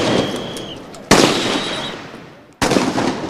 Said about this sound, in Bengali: আশপাশে তখন মুহুর্মুহু গুলির আওয়াজ।